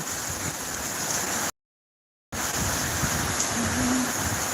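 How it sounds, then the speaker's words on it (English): Heavy rain pours down steadily in a broad, continuous wash of noise that stays loud and even, broken once by a brief silent gap before resuming unchanged. "The rain is pouring."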